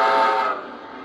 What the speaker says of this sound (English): There's the whistle, Steve.